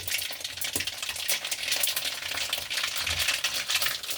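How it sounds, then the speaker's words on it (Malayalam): Mustard seeds sizzle and splutter in hot oil with a steady, fizzy crackle and occasional sharper pops. "കടുക് പൊട്ടി വന്നിട്ടുണ്ട്."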